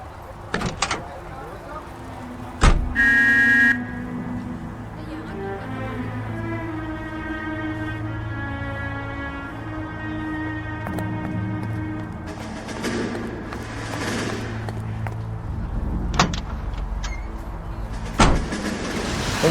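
A car is driven in the video game L.A. Noire, with a steady engine hum and droning tones running throughout, together with a few sharp thumps and clicks near the start and end.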